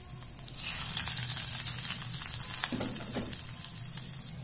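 Hot tempering of onion, dried chili and curry leaves is poured into a Kerala-style mixed vegetable theeyal, giving a loud, steady sizzle and crackle that lasts throughout, with a few sharper pops near the end.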